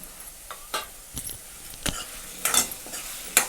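Potatoes stirred into hot oil in a pan with tomatoes, a mixed spinach and potato vegetable dish: scraping spatula strokes at irregular intervals over a faint sizzle, close and moderately loud, no talking.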